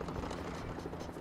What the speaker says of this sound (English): There's helicopters going nutty around here.